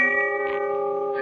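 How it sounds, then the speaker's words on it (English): A distant church-style bell tolls as a radio drama sound effect, one sustained ringing tone with steady overtones hanging in the air, quiet and without voices. "the sound of the distant bell faded out"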